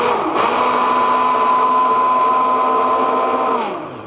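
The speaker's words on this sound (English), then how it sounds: "if you're making it in the blender, it's easy to just kind of add in a stream the water comes." A blender whirs steadily while mixing homemade lotion, a loud continuous motor drone that starts abruptly, holds an even pitch, then winds down near the end.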